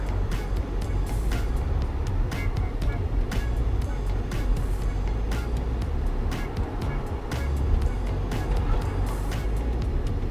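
A car drives along Mykonos roads, heard from inside as a steady engine and road rumble with faint ticking, while talk runs over it.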